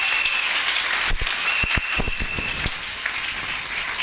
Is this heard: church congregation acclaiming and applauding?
yes